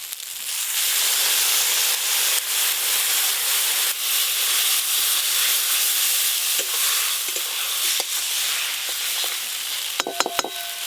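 A paste of mustard and dried red chilli thinned with water cooks with Malabar spinach greens in a pan, hissing and sizzling loudly and steadily up close, with a few clinks of the stirring spoon near the end.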